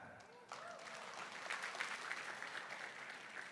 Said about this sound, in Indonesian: Tepuk tangan buat Atomy.